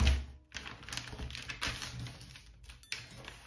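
Gift-wrapping paper being folded and creased around a package, producing crisp rustling and tapping crinkles in irregular bursts, close up, with no talk.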